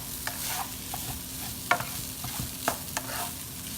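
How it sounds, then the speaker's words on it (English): A spatula scraping and stirring browned ground beef in a frying pan for beef stroganoff, with a soft sizzle underneath and a few sharper scrapes against the pan, close and fairly quiet. "Just stir it around."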